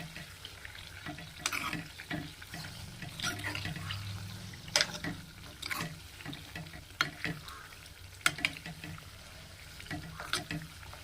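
Onion heating in oil for homemade hair oil, a soft continuous bubbling sizzle with irregular stirring clinks and scrapes at moderate distance, with light background voices.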